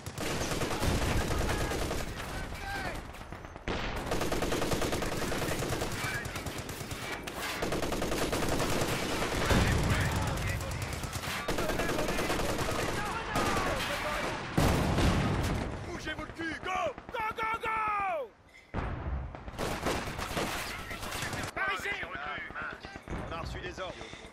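Gunfire in the World War II strategy game Company of Heroes 2: dense, loud bursts of rifle and machine-gun fire with occasional heavier booms, continuous across the scene, with soldiers' voices calling out between shots.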